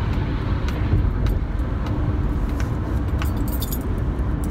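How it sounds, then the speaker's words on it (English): Car keys jangling and clinking in a moving car, small light metallic clinks scattered over the steady rumble of the road and engine, no talking. "You always hear that clunking noise on the vlog? It's my car keys."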